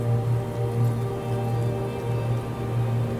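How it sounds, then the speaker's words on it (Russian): Steady rain falls on a mountain trail above 2,500 metres near the Kolsai lakes in Kazakhstan, a dense, even patter with a low constant hum beneath it and no voices. "Мы все-таки попали под дождь."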